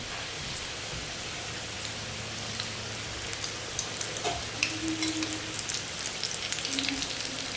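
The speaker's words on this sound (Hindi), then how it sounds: "तो धीमी आंच पे इसको हमें फ्राई करना है" Chinese pocket samosas deep-fry in oil over low heat, giving a steady, faint hiss of fine bubbling crackle with scattered pops and no voices.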